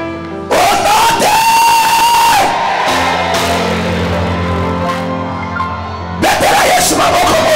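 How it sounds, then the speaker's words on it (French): A church congregation erupts in loud shouts and joyful cries of praise, a dense crowd roar that swells, eases into sustained singing or music, then bursts out again near the end. "des cris de joie."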